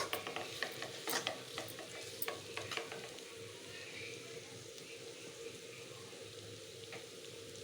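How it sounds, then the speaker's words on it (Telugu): Thin, lightly salted beetroot slices fry in oil with a quiet, even sizzle, and a few scraping stirs come early on. "బాగా వేయించేసుకోండి కాస్త."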